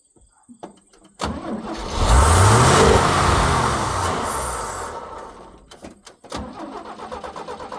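An engine on a 1978 GMC truck roars up to a loud, sustained rev after a brief start, with the throttle sticking open, then drops back to a rough idle with a sharp knock or two near the end.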